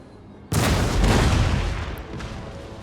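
A single heavy cannon shot in Empire Total War booms out suddenly and loud, its low rumbling roar swelling and then slowly fading over a couple of seconds.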